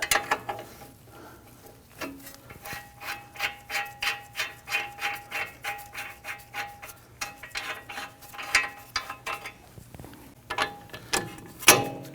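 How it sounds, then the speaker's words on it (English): A wrench loosens the front CV axle nuts on a 2010-2019 Ford Taurus, producing rhythmic bursts of close metallic ratcheting clicks, repeated stroke after stroke with short pauses between. "If you just have a wrench, and then go ahead, loosen and remove these."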